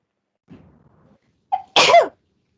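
A single sharp human sneeze indoors, preceded by a soft intake of breath, close and fairly loud against near silence.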